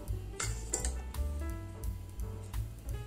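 Metal utensils clink and scrape sharply as cooked handi mutton from a pressure cooker is served into a pot, a series of close, bright clinks and taps with low cooking noise underneath.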